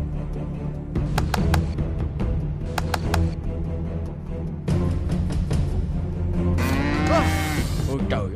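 A cartoon cow being pushed into a barn moos loudly and repeatedly over a busy backdrop of music and effects, its long lowing calls rising and bending near the end.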